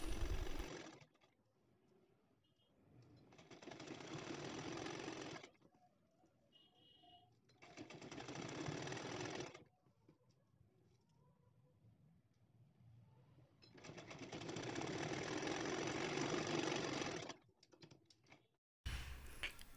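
A sewing machine stitches the reverse side of a binding strip onto the wrong side of a nightie neckline, running in several steady bursts of rapid mechanical whirring separated by short quiet pauses.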